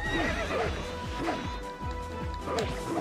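A horse neighs repeatedly in the video game Samurai Warriors 2, with short whinnies recurring over game battle noise and a faint voice.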